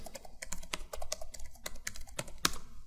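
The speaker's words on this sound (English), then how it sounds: "Now we will go to our browser here and type this IP address" An IP address is typed on a computer keyboard into a browser, a quick, irregular run of crisp key clicks close by, with no talking.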